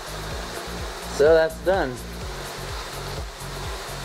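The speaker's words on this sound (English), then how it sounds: "I'll vacuum out this half and then move the plants down and vacuum that half" Wet-vac suction pulling waste water and sludge off the bottom of a deep water culture hydroponic bed: a steady close, rushing roar runs throughout, with a brief voice breaking in near the middle.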